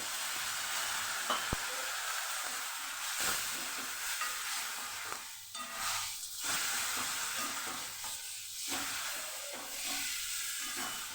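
Hot oil sizzles and hisses steadily as water is added to frying masala, with bursts of spattering and stirring scrapes, no voices over the cooking noise.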